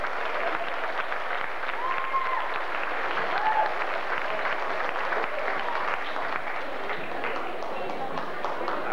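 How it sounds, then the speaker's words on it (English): An audience at a small-town talent contest in 1999 applauds a young woman performer, a dense even wash of clapping lasting several seconds, with voices mixed faintly underneath. "Give her a nice round of applause."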